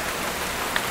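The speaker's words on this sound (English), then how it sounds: "just started raining." Steady rain falling outdoors just as a shower begins, a dense even hiss of drops filling the whole moment with one slightly louder drop near the end, no voices.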